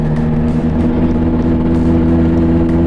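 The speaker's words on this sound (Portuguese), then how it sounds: "sempre foi mesmo pelo ronco do motor, que eu sempre achei muito bonito" A tuned Fiat Marea Turbo five-cylinder engine with straight exhaust idles loud and close, a deep, steady burbling rumble with a slight uneven pulse.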